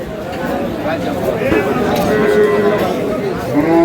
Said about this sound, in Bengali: আর এখানে একটা দেখছি গাভী বাছুর বেশ সুন্দর কোয়ালিটির গরুটি দেখছেন হচ্ছে রহিম ভাই।